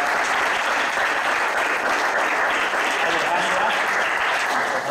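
Steady, loud clapping from a large crowd at a karate event fills the whole stretch without a break, even and sustained.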